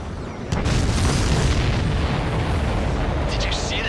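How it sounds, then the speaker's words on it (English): A heavy boom erupts in an aerial combat mission in Ace Combat 7 as a supply ship is hit, a sudden loud blast sustaining into a dense roar that continues to the end, with radio-style voices faintly underneath. "Did you see that explosion?"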